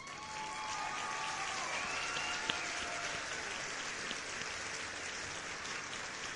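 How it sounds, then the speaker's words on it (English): Steady applause from a crowd, a broad hiss of clapping that holds evenly throughout at a moderate distance, with faint tonal sounds briefly in the background. "let's give a round of applause for Boxing for stopping by."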